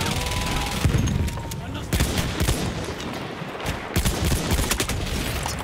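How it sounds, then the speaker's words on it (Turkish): A small Uzi-like submachine gun in Battlefield 1 fires rapid bursts amid a loud battle, with sharp cracks in clusters broken by short pauses and heavier booms underneath, while a voice talks over the gunfire. "Bak hep çok garip küçük Uzi gibi yavru Uzi ile vuruyorlar hepimizi bak."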